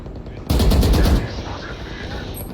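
A fast burst of automatic gunfire in the Valorant shooter game, loud rapid shots for under a second followed by fading echo and game ambience.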